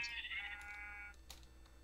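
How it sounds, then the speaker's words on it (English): A sheep in the Minecraft video game bleats once, a short wavering cry that fades quickly, followed by faint clicks of game sounds at low volume. "A sheep inside of a tree."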